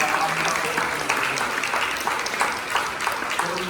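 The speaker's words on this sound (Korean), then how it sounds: "선생님들 우리 한번 박수로 한번 경배하겠습니다." A church congregation at a Thanksgiving Sunday service applauds the teachers, a sustained, fairly even roomful of clapping that carries on steadily from start to finish.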